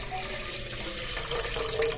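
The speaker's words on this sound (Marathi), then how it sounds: "आता एक पातेलं घेतलंय आणि त्याच्यामध्ये एक तांब्याभर पाणी टाकून घ्यायचंय" A tumbler of water poured into a pot, a steady close gush and splash lasting about two seconds, with no talk.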